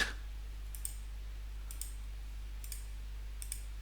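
Four soft, separate mouse clicks spaced about a second apart, faint and close, over a steady low electrical hum, with no voices.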